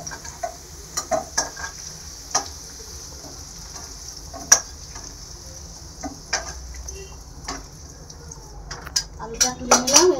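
Fried potatoes lifted out of a hot pan, a low steady sizzle under repeated sharp scrapes and clinks of a utensil against the metal pan, busier toward the end.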